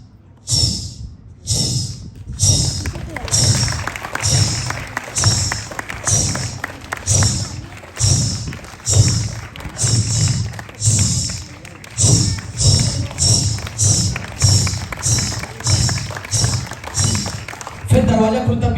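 A performer vocally mimics jingling ghungroo ankle bells in a steady rhythmic train of short, breathy chh-like bursts paired with low thumps, loud and close on a comedy stage, with a moment of talk at the start.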